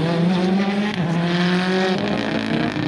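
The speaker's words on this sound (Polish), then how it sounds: "Ten głośnik wydechą coś dziwnie gra." Learner car with a loud aftermarket exhaust at a rally show, roaring close by with a deep, steady, rumbling drone and slight pitch shifts as the engine holds revs.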